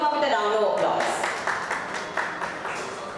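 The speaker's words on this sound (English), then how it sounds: "Welcome her with a round of applause." Audience at a mall media event breaking into applause as a voice finishes speaking, a dense, moderately loud spread of clapping that carries on steadily.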